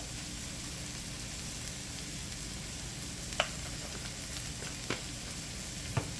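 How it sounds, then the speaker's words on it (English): Garlic, onion and crushed red pepper sautéing in a pan, a steady close sizzle with a few sharp clicks of a utensil against the pan, no voices. "Garlic, we're gonna cook it for just a little while"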